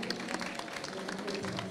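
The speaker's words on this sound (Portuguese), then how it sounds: "Uma salva de palmas," Brief audience applause at an innovation community talk, a short dense burst of clapping from a crowd with a faint murmur of voices beneath.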